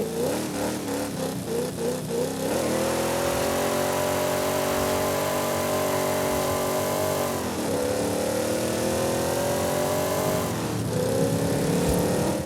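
A Dodge Super Bee muscle car engine in Forza Horizon 5 rumbles, then revs up in long rising roars with brief dips as gears shift, loud and close throughout.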